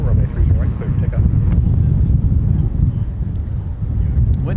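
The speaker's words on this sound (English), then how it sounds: "Wind has certainly been a lot more ferocious than it started out to be here today." Strong wind blows at an airport and buffets the microphone with a loud, steady low rumble. A voice is heard faintly beneath the gusts.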